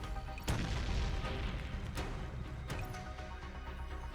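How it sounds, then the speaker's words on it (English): A Hellbore cannon in the game GF: Neural Cloud fires repeatedly, each heavy boom landing over a thick, rumbling low-end roar, with three sharp blasts spaced roughly a second apart. "The cannon blasts a huge hole in the armored elevator shaft"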